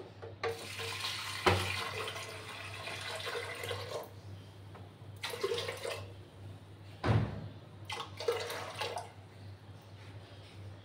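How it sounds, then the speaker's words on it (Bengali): Water being poured into a pressure cooker holding cucumber and moong dal. It makes a close, rushing splash in several bursts of varying length separated by brief pauses, and no one speaks. "এবার আমি জল দেব।"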